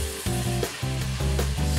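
Spaghetti tossed in a hot pan with parsley sizzles and fries loudly, with rhythmic bursts of stirring and clattering close up.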